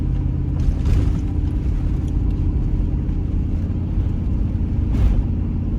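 A 220,000-mile Chevrolet Tahoe engine holds a steady, loud low rumble at partial throttle in second gear while towing a car, a continuous drone with slight surges near the start and end.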